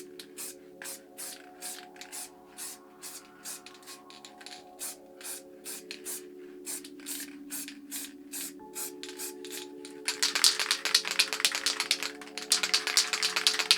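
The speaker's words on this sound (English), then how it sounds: "And all we'll do is spray around these lid stencils." Montana Black spray paint in Kicker Yellow hisses out in a long run of short close bursts around lid stencils, the sprays growing louder and more continuous toward the end, with no talk.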